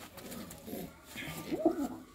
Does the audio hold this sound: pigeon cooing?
yes